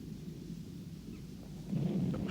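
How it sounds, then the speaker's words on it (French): A low, distant rumble of thunder rolls through a quiet outdoor scene in the 1986 horror film Rawhead Rex, swelling slightly louder near the end with no talk over it. "Ça doit être le tonnerre."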